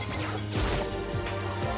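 A monitor being smashed in the video game Danganronpa, a couple of short crashing hits over a steady game background, with no talking.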